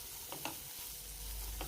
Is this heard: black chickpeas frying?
yes